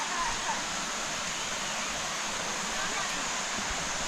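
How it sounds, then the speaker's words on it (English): Waterfall in Chiang Mai, Thailand: a constant, even roar of falling water, broad and unbroken for several seconds with no talk. "the waterfall's in here."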